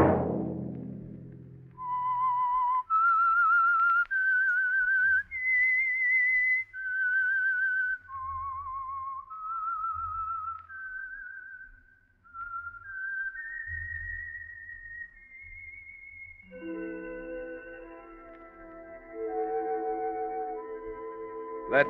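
A clear whistled melody plays solo, a sequence of sustained notes rising and falling, ending with a brief musical chord.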